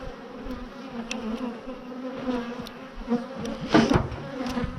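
Feisty honey bees swarm around a newly installed hive, filling the air with a dense, continuous buzz close by, as individual bees swoop louder past the listener.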